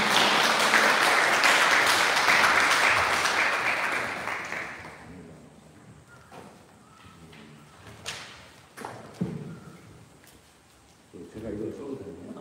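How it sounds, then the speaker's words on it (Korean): Loud applause from a conference audience at a Sunmudo academic conference fills the first few seconds, then dies away. Quiet thumps and handling noises follow, with a few muffled voices. "큰 박수 부탁드립니다."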